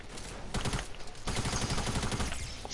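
Video game gunfire, a run of rapid, fairly distant shots in quick bursts over a steady background, with a sharper volley starting midway.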